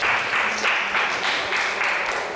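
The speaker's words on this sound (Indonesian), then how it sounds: "Maura, coba beri tepuk tangan dulu." A classroom full of people clapping together during a sociology teaching assessment, a dense burst of applause that keeps going steadily throughout.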